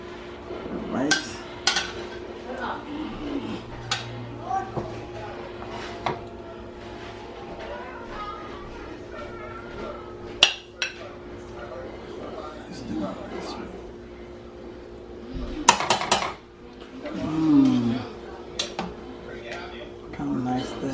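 Dishes and cutlery clink and scrape while rice and pepper steak with onions and gravy are plated, scattered taps and knocks over a steady kitchen background, with a person talking throughout.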